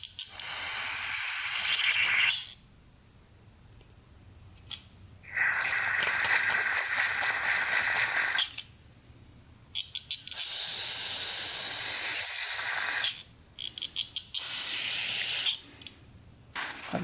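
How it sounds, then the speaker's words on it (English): Aerosol can of WD-40 or brake cleaner sprayed onto a muddy Suzuki RM125 dirt bike, long loud hissing bursts of a few seconds each, broken by short quick spurts and pauses, close up with no talk. "Spray a little WD-40 in there,"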